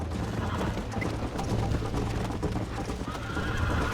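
A horse in the video game Red Dead Redemption whinnies and gallops, with rapid clip-clop hoofbeats under a loud, busy game mix, close and continuous with no talk.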